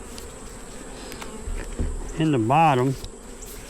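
A low, steady hum of bees buzzing during a hive inspection sits beneath a brief spoken phrase from a person close by.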